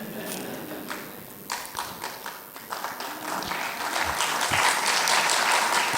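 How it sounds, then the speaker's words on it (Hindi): A mushaira audience at a Roorkee poetry gathering breaks into applause that starts with scattered claps, then builds into fuller, sustained clapping across the hall, growing louder toward the end. "देखिए तालियां जो हैं ये जंगल की चिंगारी की तरह होती हैं।"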